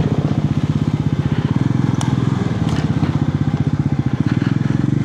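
A rapid, pulsing engine putter from a motorbike on a road in Nepal runs throughout, loud and close, with a couple of sharp clicks or knocks partway through.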